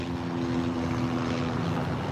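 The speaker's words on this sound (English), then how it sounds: "Again, we have helicopters." Helicopters flying overhead near a detention center, a steady rotor and engine drone that holds at moderate loudness throughout the short stretch, with no voices.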